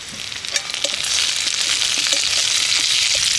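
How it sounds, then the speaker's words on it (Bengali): Chopped tomatoes drop into ginger-garlic paste frying in a pan for a jackfruit and prawn curry, and a steady hissing sizzle swells after about a second and holds loud and close to the end, with no talk. "এবার আমি এর মধ্যে দিয়ে দিচ্ছি কেটে রাখা টমেটো।"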